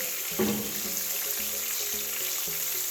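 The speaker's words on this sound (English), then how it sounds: "and leave them to fry." Cod fillets fry in a pan Caribbean style, giving off a continuous close sizzle and crackle with a brief louder spatter near the start and a faint tonal hum beneath.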